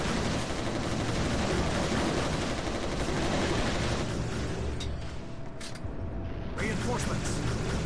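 Gunfire during a Resistance: Retribution firefight, a steady wash of rapid shots and bursts filling the whole stretch, loud and continuous, with voices talking over it.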